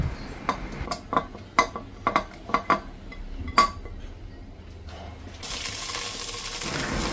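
Ginger goes into a pan of sesame oil over low heat: a scatter of light metallic clinks and taps from utensils against the pan, then a soft, steady sizzle rises and carries on.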